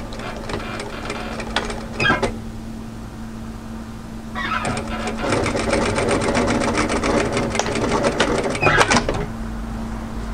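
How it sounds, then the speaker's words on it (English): A sewing machine runs a side seam with a 1 centimeter allowance on a cami top, starting with a short whir, then a long steady close stitching run, with no talk. "we're going to sew a 1 centimeter seam at the sides"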